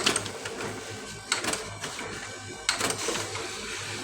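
A networked office printer runs a test page, with rhythmic mechanical whirring and three distinct feed clunks spaced a second or so apart at moderate, close volume, no talking.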